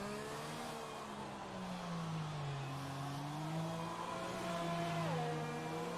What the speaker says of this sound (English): We see a McLaren go past.